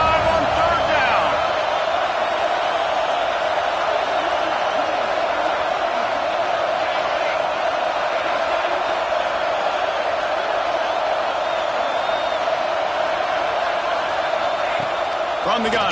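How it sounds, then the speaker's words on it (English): Ohio State Buckeye football crowd at a game against Washington roars in a steady, dense wash of cheering and noise on third down, with a commentator talking over it. "The Buckeye crowd alive on 3rd down"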